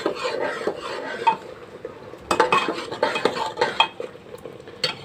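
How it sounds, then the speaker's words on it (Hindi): Rajma is stirred and mixed in a cooking pot with a metal spoon: close scraping swishes and bright clinks against the pot, with uneven strokes and some faint sizzling underneath, and no talking. "और हम इसको पूरा इसके अंदर मिक्स कर देंगे।"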